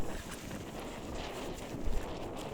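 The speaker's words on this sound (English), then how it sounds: "You can hear the wind in the video." Steady, cold wind in Iceland buffets the microphone in a constant rushing roar, with a brief louder gust near the end.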